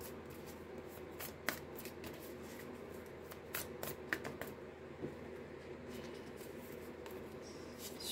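Quiet, close handling of tarot cards: soft shuffling rustles and several light taps and slaps as cards are laid down, over a low steady background hum.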